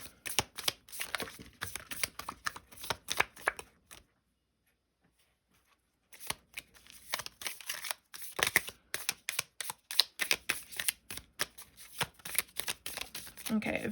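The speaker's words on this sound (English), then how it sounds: "I'm going to get our oracle cards to sort of help us" Oracle cards are shuffled by hand in a steady run of crisp riffles and flutters, close and fairly loud, with a brief silent pause midway before the shuffling starts up again.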